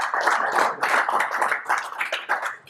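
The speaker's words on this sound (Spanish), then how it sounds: "así que le damos un aplauso" Audience at a tech talk on JavaScript engines clapping steadily for a few seconds, a dense, fairly close patter of many hands that swells and dips slightly before tailing off.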